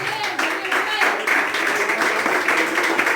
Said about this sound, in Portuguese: Bate o palmo e glorifica a Deus